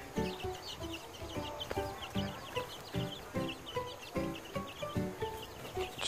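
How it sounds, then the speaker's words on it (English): A flock of chickens foraging for worms clucks steadily, with repeated close bursts of clucking and low murmurs overlapping throughout, no talking. "Chickens hunting for worms."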